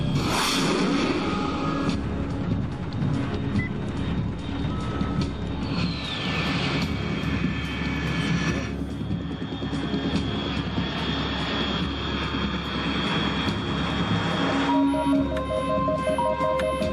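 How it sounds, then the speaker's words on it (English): An aircraft engine roars steadily in Metal Gear Solid 3, a dense, loud jet-like drone with a whooshing pitch sweep early on and a higher tonal whine appearing near the end. "Unidentified aircraft detected."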